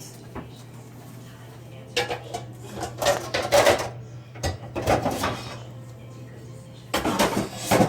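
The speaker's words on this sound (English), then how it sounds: "I'm going to put a lid on there and I'll put it on low heat" Metallic clanks and scrapes of a lid being set on a cooking pot of chicken pot pie filling, several close knocks in short clusters over a low steady hum.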